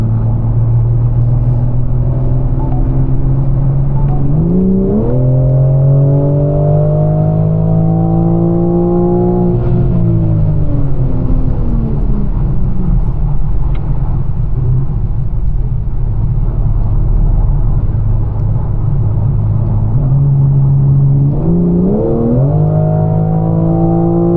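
A BMW M4 Competition with its S58 engine drones loudly from inside the cabin while driving, rising through revving climbs and dropping back, its low rumble constant and unbroken by talk.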